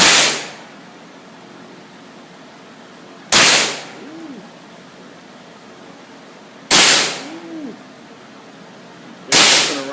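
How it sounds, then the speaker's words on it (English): Gunshots ring out at a shooting range aimed at a penny target, four loud, sharp reports spaced a few seconds apart, each followed by a brief metallic ring and decaying echo. "I hit that penny, my second shot."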